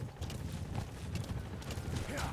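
Horse hooves clop in a fast, steady rhythm as a horse gallops in the video game Metal Gear Solid V, loud and close under a dense layer of game sound.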